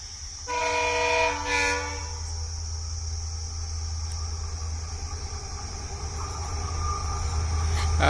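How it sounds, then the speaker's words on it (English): A goods train from Hubli, hauled by a WDG locomotive with granite wagons bound for Madgaon, rumbles past steadily at a station, sounding a short horn toot early on before the wagon noise carries on alone. "Here is comes goods train"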